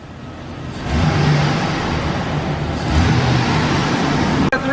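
A van's engine idles steadily with a rebuilt 4L80 automatic transmission freshly installed, a continuous broadband rumble holding at moderate loudness for several seconds, with a brief click near the end.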